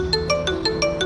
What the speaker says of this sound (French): Ah, son téléphone sonne.